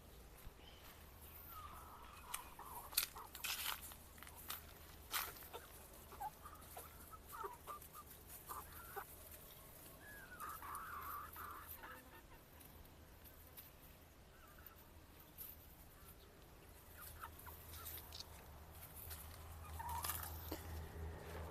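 Quail cluck and peck softly in a quiet setting, with scattered faint calls and small tapping and biting sounds spread unevenly across a long stretch, no talking.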